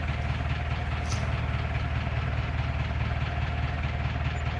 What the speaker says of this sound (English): Of course, a noisy old tractor, isn't it?